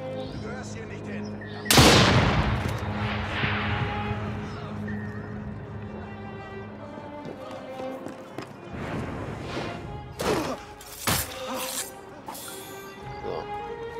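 Revolver gunshots in Assassin's Creed Syndicate, one loud, sharp crack followed by a ringing tail, then several more scattered shots later among game ambience, with someone talking in German in between.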